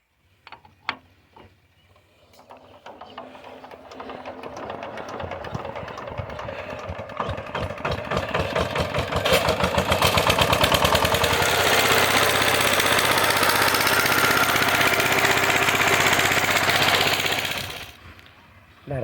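An engine-driven plough works a field prepared for elephant foot yam. A few clanks come first, then rapid mechanical knocking builds into a loud, steady rattling roar that runs for several seconds before cutting off, with no talk over it.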